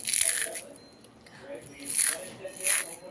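Crispy fried papad being broken and bitten, a few sharp crunches and crackles close by, separated by brief quiet gaps.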